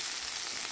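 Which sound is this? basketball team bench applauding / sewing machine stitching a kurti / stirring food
stirring food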